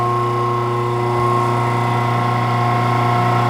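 A three-phase electric motor fed from single-phase power through a push-button and lamp circuit runs with a steady, close mechanical hum and no voices.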